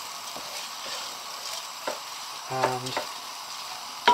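Rice with turmeric is stirred in a pan, giving a soft scraping and a light sizzle with a few utensil knocks, close and fairly quiet, with a single spoken word near the end.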